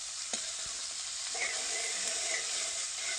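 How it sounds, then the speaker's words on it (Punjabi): Onions frying in a pan until brown, over a stove fire, make a quiet, steady sizzle with a few faint clinks of a spoon, close by and without speech. "ਪਿਆਜ਼ਾਂ ਨੂੰ ਆਪਾਂ ਬਰਾਊਨ ਹੁੰਦੇ ਤੱਕ ਪਕਾ ਲੈਣੇ"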